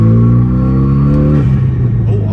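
A Renault Megane R.S 225 hot hatch engine holds a loud, steady rev that dips briefly partway through, heard close with no one talking.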